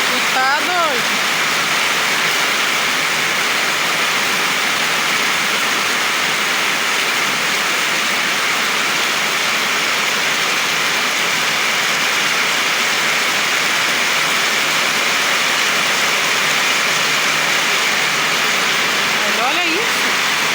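Heavy rain pours down in Floresta do Araguaia, Pará, a constant, loud, rushing roar of water that continues unbroken throughout.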